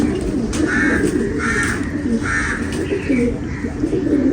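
A pigeon coos in repeated soft, rounded calls roughly every half second to second, close and clear over a steady background hum.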